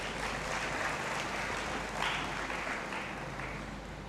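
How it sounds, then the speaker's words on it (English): Audience applause for graduates at a University of Ghana graduation ceremony, a steady, dense clapping that fills the hall continuously with a slight swell midway. "A resounding round of applause is well deserved to all of you."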